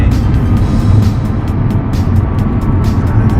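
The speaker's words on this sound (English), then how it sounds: "Second gear from about 20 to 60." An Audi B8 S4 with a stage 1 tune accelerates hard in second gear, a loud, continuous engine roar heard from inside the car with road rumble beneath and no talking.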